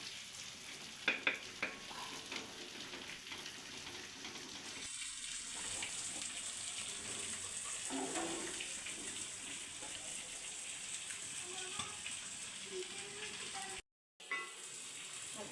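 Coriander powder and spices fry and sizzle in a pan for chicken curry, a steady close crackle with occasional stirring clatter and a brief drop near the end.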